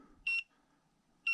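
Short electronic warning beeps from an RC-car radio transmitter alerting to low receiver voltage, two crisp pulses about a second apart, close and alone.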